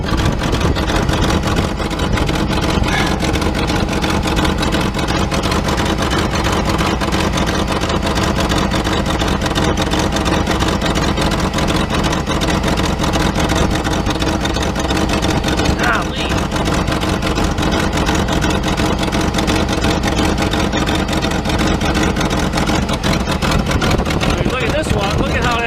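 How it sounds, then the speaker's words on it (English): A 1977 Mercedes 450SL motor runs steadily and loudly throughout, with a dense constant engine drone and people talking over it. "When you lift them, the sound of the motor should change"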